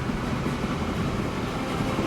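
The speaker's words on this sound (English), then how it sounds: "let that train get underway." Train running in the video game Transport Fever 2, a steady continuous rumble of wheels and rolling stock, loud and uninterrupted with no talk.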